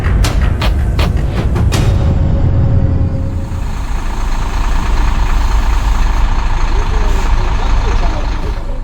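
A Hino FM8J diesel truck with a 52-ton load rating, seen in Pakistan, idles with a loud, steady low rumble, after a few quick clicks at the start.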